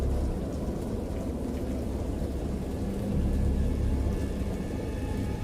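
Steady rain hisses over a low rumble of thunder in a video game, a dense continuous wash of sound with no voices.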